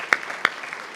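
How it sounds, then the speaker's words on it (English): A couple of sharp, scattered hand claps from an audience at an AltaSea open house gathering, brief and fairly quiet, with no sustained ovation. "Give them a great big round of applause."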